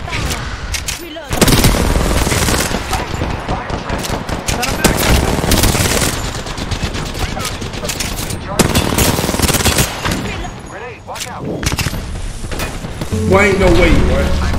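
Shooter video game combat with dense, near-continuous automatic gunfire and rapid bursts, loud and close, while a player talks over the shooting throughout.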